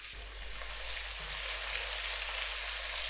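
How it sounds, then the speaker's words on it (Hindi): Finely chopped onions, two medium ones, frying in hot oil for a seekh kabab pulao, giving a steady, dense sizzle that holds even and close throughout with no talking. "अब इसी ऑयल में हम प्याज फ्राई करेंगे"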